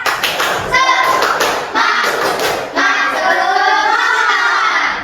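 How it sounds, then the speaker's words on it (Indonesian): A class of fifth-grade pupils performs a rhythmic patterned clap in their classroom, sharp hand taps falling in quick sequences while children's voices chant loudly over and between them. "Tepuk semangat."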